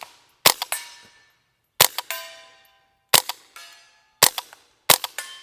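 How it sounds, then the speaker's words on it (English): Five sharp, loud gunshots from a Tippmann M4 Micro Elite .22LR rifle, fired one by one at an even pace of roughly one per second, each followed by a brief echo and then silence. "gonna do some shooting"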